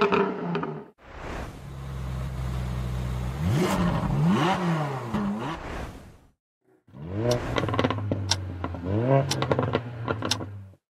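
Ferrari 458 Italia engine revving loudly in bursts, with rising and falling pitch sweeps as the throttle is blipped, then a second run of climbing revs after a brief pause.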